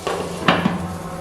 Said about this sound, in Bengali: আবারও আমি কড়াইয়ের ঢাকনা বন্ধ করে দিচ্ছি।